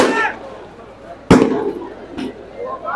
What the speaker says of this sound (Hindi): ये जो पटाखेबाजी हो रही है ये हम नहीं कर रहे।